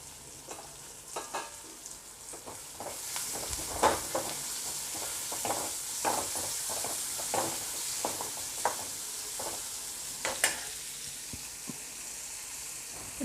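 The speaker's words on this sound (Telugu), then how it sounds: "ఉల్లిపాయ కొంచెం వేగిన తర్వాత టొమాటో ముక్కలు కూడా వేసుకోవాలి." Onions and tomato pieces fry in a pan for bendakaya pulusu, a steady close sizzle with repeated scraping stir strokes through the clip, and no voices.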